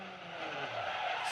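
An IMSA race car losing control during morning warm-up at the Belle Isle street circuit in Detroit, with a brief, fairly faint tire skid and scrub over a steady engine roar.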